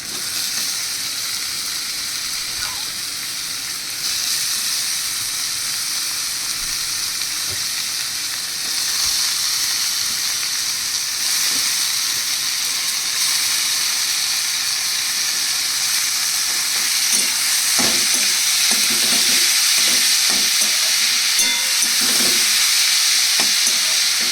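Pointed gourds (potol) frying in a pan, a loud continuous sizzle with steady hissing and occasional stirring scrapes, no voices.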